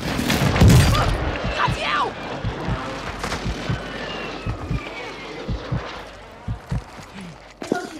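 Airstrike explosions from Call of Duty Warzone Resurgence: a heavy boom near the start followed by a string of dull, repeated thuds and blasts at irregular intervals, with game voice chatter layered over the rumble.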